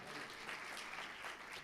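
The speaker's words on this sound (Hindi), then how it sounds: "खुल के तालियां बजाओ यीशु मसीह लिए, मेरे लिए नहीं।" A church congregation applauds during a New Year sermon, giving steady, dense clapping that stays even throughout, with a voice faintly present underneath.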